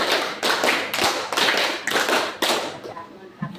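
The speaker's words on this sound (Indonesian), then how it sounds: "Tepuk 1, 2, 3, 4, 5, 2 kali tepuk 5." Classroom of students clapping together in a counted pattern, several loud, ragged bursts of group clapping in quick succession, close, fading into a few scattered claps with a voice at the end.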